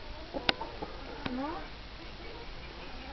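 A few soft, scattered clucks from chickens at close range, quiet and irregular, with brief pauses between them.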